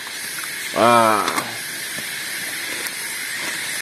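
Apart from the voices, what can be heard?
coffee with sugar boiling and hissing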